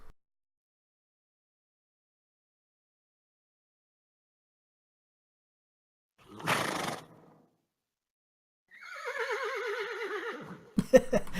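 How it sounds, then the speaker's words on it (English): Horse neighing and whinnying outside a manor: a brief breathy snort midway, then a long quavering whinny near the end, with a sharp burst at the close, otherwise silent. "You hear the neighing and whinnying of a horse"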